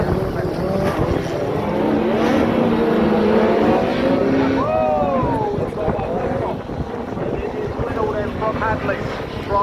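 Men's class 5 autograss race cars at a Southern Nationals meeting roar off the start together, a loud dense engine howl with rising revs that fills the air for several seconds before thinning slightly, heard from the trackside.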